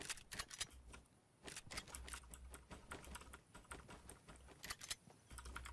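Clicky typing on a Tifue RGB computer keyboard during a Fortnite session, rapid irregular key strikes in bursts with brief gaps, close and fairly quiet, no talking.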